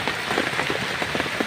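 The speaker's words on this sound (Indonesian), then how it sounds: "dari malam diguyur hujan sampai saat ini, sampai pagi ini masih hujan" Steady rain pours on Mount Sagara in Garut, West Java, a close, continuous hiss with dense patter of drops on surfaces and no voices.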